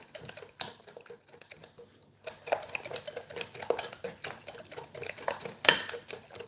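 Vanilla squares batter being mixed by hand in a bowl, with irregular scraping and clinking of a utensil against the bowl; faint and sparse at first, then a steady busy stirring with one sharper clink near the end.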